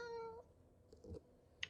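A single drawn-out cat meow up close and fairly clear, followed by faint soft knocks and a short sharp click.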